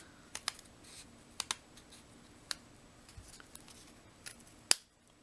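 Scissors snip through paper while cutting all the way around a piece for an embellishment container, a series of sharp close clicks and short snips spaced irregularly, the loudest snap near the end, over quiet room background.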